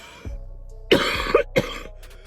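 One person coughs hard and close, several harsh rasping bursts in quick succession with a throat-clearing quality.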